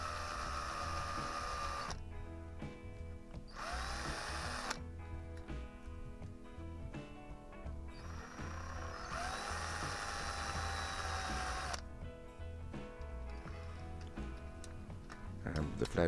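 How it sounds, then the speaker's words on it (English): A larger drill bores out the rivet flange on a Corgi Hillman Imp die-cast model, whining in several close, loud bursts separated by short pauses. "now we can go for the larger drill just to drill out the flange."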